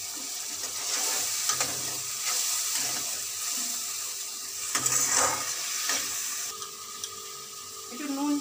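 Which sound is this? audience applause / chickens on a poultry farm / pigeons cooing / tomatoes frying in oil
tomatoes frying in oil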